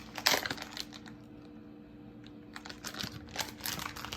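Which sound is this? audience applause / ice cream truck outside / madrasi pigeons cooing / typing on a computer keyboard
typing on a computer keyboard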